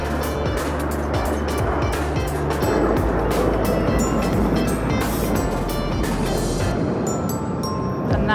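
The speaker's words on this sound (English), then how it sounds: "And that is the roar of those engines." Aermacchi MB-339A jet trainers roar past at an airshow in Dubai, a loud sustained broadband rush of engine noise that fills the whole stretch, with crowd sounds faintly mixed in.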